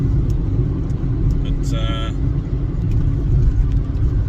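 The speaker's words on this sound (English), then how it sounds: "So it's my drive to work. It's 40 k's to work." A car cruising along a country road through paddocks on a 40 km commute, a steady low engine and road rumble running throughout with a brief higher whine near the middle.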